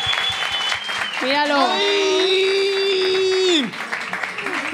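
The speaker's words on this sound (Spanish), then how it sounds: "Quiero que recibáis con un fortísimo aplauso." Studio audience applause greets a guest arriving on a Spanish comedy talk show, a broad steady wash of clapping under excited host voices and a long exclaimed cry, fading near the end.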